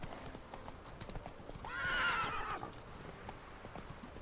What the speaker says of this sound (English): What happened to that horse?